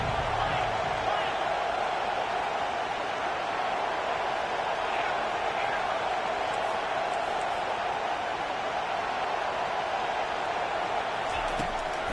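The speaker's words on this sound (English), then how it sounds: "Here comes his home crowd as the defense tries to get off the field on 3rd down." Steady, loud roar of a home crowd at a Tennessee Volunteers football game, continuous throughout with a faint broadcast voice underneath.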